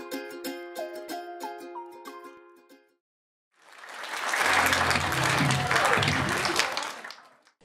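Audience applause from a crowd at a Romani music festival show, a dense wash of clapping that swells in after a short piano-like passage and a pause, then holds steady and loud for several seconds before fading.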